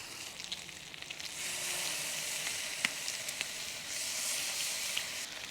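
Cheeseburger patties sizzle steadily on a skillet, a close, even hiss that swells partway through, with a few sharp spits and pops scattered on top.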